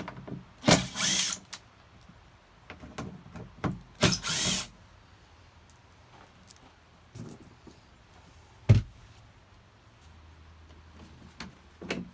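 A power drill backs Torx screws out of a Chevy Avalanche tailgate, giving several short whirring bursts separated by pauses, with light handling clatter between them.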